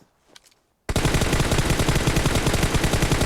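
Sustained automatic gunfire in PUBG Mobile erupts after a brief quiet moment, a loud continuous rattling burst that fills the rest of the clip.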